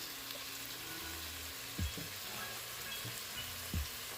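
Chicken pieces sizzling steadily in a hot pan with ground cumin, a soft continuous fry broken by a couple of brief louder spatters or stirs, close and moderate in level with no talking.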